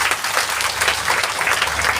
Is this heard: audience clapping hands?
yes